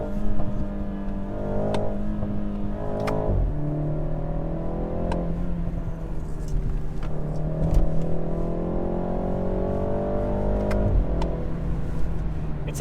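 A stock BMW G20 330i with an aftermarket rear exhaust box, engine droning and rising in revs with sharp overrun cracks and pops punctuating it every couple of seconds, close and loud, no talk.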